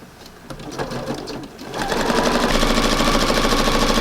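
A sewing machine stitches a pillow with a knife-edge ruffle for a front porch redecoration. Short bursts of stitching give way to a louder, steady run of the needle through the second half.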